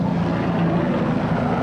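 Military helicopters circle overhead during combat in Iraq, a steady low rotor drone with engine hum that stays constant and fairly near, with no voices over it.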